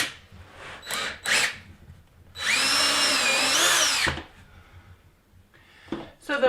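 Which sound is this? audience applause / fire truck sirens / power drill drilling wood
power drill drilling wood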